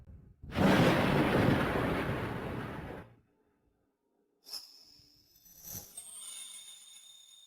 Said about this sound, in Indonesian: Suara petir tidaklah menakutkan